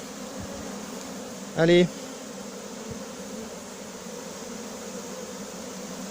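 A honey bee swarm buzzes steadily and close throughout, a dense continuous drone, with a brief louder burst in the middle where a voice speaks one short word.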